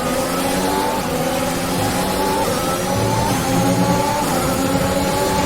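A race car engine in a racing video game at Shanghai, China, holds a steady high drone, loud and continuous, with no speech over it.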